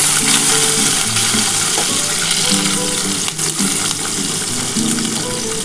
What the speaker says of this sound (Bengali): মশলাগুলো একটু হালকা করে ভেজে নেব।